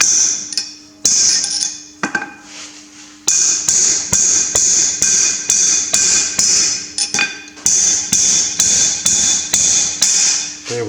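Repeated sharp metallic hammer blows on a Massey Ferguson 135 Multipower rear axle, close and loud, a steady rhythm of ringing strikes with brief pauses between groups.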